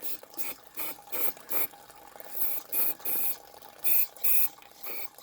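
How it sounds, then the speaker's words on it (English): Carb cleaner hisses into a small engine's carburetor in a series of short bursts, about ten quick pulses with brief pauses between, close and fairly loud. "Just give it a good spray."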